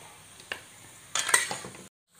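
Bakso balls frying in a pan over a small flame, stirred in two short bursts of scraping and clinking with a faint sizzle, close and fairly quiet, ending in silence.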